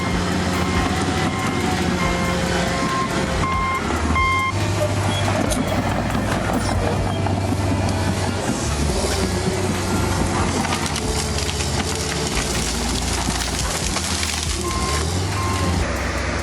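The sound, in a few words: TG-120 bulldozer clearing a road through forest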